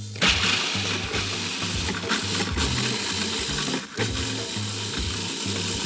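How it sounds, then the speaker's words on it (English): A food processor grinds fifteen graham crackers into crumbs with a loud, steady mechanical whirring and a pulsing, rattling rhythm throughout. "Okay, so that's 15 graham crackers. I'm just gonna make crumbs."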